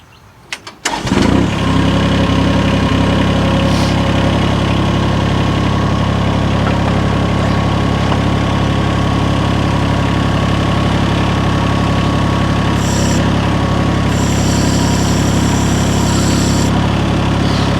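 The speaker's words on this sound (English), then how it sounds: "what I'm going to do now is actually start the engine" A mini excavator's small diesel engine cranks and catches after a second, then settles into a loud, steady idle that chugs on evenly for the rest.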